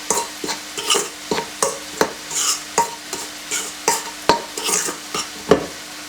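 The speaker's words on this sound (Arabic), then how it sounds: "كنخلط هاد المواد الجافه كامله حتى تنسجم مع بعضياتها." Dry brioche ingredients (milk powder, sugar and vanilla) mixed together in a bowl: a regular rhythm of close scraping, swishing strokes, each a short gritty sweep, repeating steadily with no talk.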